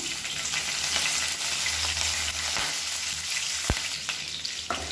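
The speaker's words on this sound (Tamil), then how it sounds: "கடுகு சீரகம் நல்லா பொரிய ஆரம்பிக்குது" Mustard seeds and cumin spluttering in hot oil for a chutney tempering, a continuous close sizzle with scattered sharp pops and crackles, no voices.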